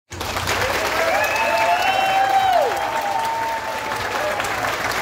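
An outdoor crowd at a town square festival in Tiros, Minas Gerais, applauds steadily and loudly, with sliding whistles and cheers rising over the clapping.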